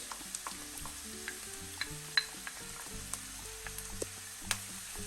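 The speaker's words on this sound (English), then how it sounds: "now this is the oil hot. I do all the onion inside." Onions sizzle and fry steadily in hot oil for Egyptian shakshuka, a soft continuous crackle broken by light clinks of a utensil stirring the pan, with no talking.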